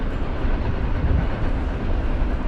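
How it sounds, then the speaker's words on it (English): A freight train rumbles past near Indiana Dunes National Park's West Beach trails, a loud, dense, continuous roar with low rolling noise throughout. "Freight trains."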